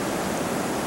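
Released dam water roaring through rapids on the Allagash River, a dense, steady rushing wash that is loud and continuous with no break and no voices.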